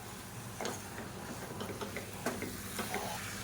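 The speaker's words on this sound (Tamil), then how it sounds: "இப்போ இது எல்லாத்தையும் நல்லா வதக்கி விட்டுக்கலாம்." Boneless chicken sautéing in a hot pan gives a continuous sizzling hiss, with a few light spatula taps and scrapes as the pieces are turned.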